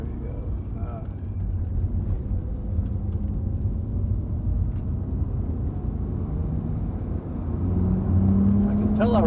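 A Nissan Skyline R32 engine pulls steadily along a back road near 4,000 RPM, a low continuous rumble that swells toward the end, while a person talks over it.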